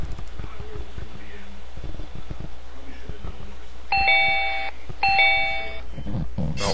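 Two short electronic alarm chimes from a VB6 2D side-scroller game ring out in succession over background clatter and voices, each a bright, sustained tone lasting under a second.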